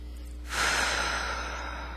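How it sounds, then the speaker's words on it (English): A single deep breath drawn in, loud and airy, taken during an emotional freedom tapping session with a hand over the heart, swelling quickly and holding as a long, steady exhale with no voice. "take a deep breath"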